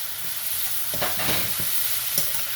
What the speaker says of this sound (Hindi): अब ये और 5 मिनट ये कुक होगा चिकन